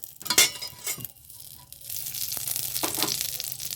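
Ghee heating in a hot kadai, crackling and sizzling close up, with a few bursts of spattering early on followed by a steadier, softer fry hiss.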